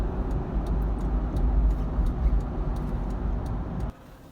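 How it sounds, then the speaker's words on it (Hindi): Road traffic passes on a busy street, a loud steady low rumble of engines with faint ticking clicks, which drops away abruptly near the end. "ये देखिए किस कदर ट्रैफिक हो गई है"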